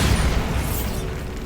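A Bombarda explosion spell in Hogwarts Legacy lands as a deep, loud boom with a rumbling, mechanical tail that fades slowly, heard alone without voices.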